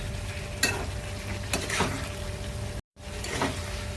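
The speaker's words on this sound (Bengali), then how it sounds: "আর এর ভেতরে আলু আর চিংড়ি মাছ দিয়ে দেবো ভালো করে এটা কষাতে হবে" Potatoes and prawns sauté in a pan of spiced masala, a steady low sizzle with a few scraping stirs of a spoon, heard close and fairly quiet, with a brief dropout partway through.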